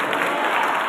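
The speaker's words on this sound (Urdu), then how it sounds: "سب زندہ خدا کے لیے زوردار تالی بجائیں گے" A church congregation breaks into loud, dense applause for God during worship, a continuous close wash of clapping filling the whole moment without speech.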